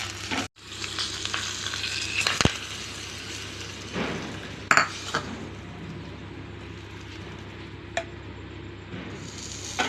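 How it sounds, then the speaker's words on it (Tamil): Red chillies, curry leaves and asafoetida sizzle steadily in hot oil for peanut chutney, a close continuous frying crackle with occasional clinks and stirring knocks of a utensil against the pan. "கிள்ளி வச்ச வரமிளகா போட்டுக்கலாங்க கருவேப்பிலத்தில் ஒரு பத்து பெருங்காயத்தூள் கொஞ்சம் தாளித்து கொட்டிக்கலாங்க"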